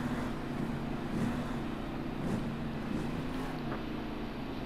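Motorcycle engine held at full throttle in fifth gear, a steady loud drone with a low steady pitch that swells slightly, with wind roar across a continuous run.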